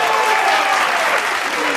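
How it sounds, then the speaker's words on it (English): Studio audience applause on the Who Wants To Be A Millionaire game show, a steady, dense burst of clapping that fills the whole short moment at close, loud level. "Big applause, ladies and gentlemen,"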